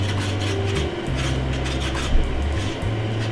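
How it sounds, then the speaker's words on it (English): Food is scraped off a Gotham Steel non-stick pan in a steady, close, rasping scrape over a low background hum. "it takes a little bit of scraping, but it pretty much comes right off"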